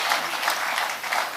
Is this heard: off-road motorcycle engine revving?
no